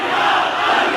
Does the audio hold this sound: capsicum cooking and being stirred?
no